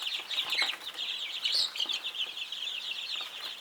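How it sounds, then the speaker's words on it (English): A crowded chorus of small chicks and chickens in a three-stack brooder peeping and clucking continuously, bright and busy, close by with no talking. "Laughing chickens as well, a whole bunch of them."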